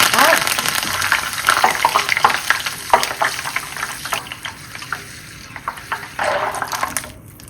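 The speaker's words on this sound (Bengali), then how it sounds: "কারি পাতা ভেজে নিচ্ছি।" Curry leaves crackle and spit in hot oil, bursts of sizzling popping rising and falling while being stirred, fairly close, with some faint background voices.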